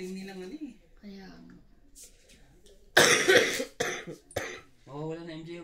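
A burst of harsh coughing in the middle, loud and close, with a person talking before and after.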